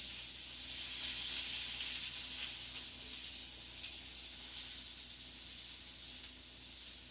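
A mushroom, spinach and feta omelet cooks in a pan, a steady soft sizzle and hiss continuing evenly throughout with no talking.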